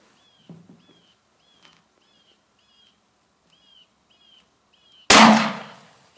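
A single loud shotgun blast rings out sharply after several quiet seconds of chirping birds and faint outdoor rustling, its report decaying over about a second.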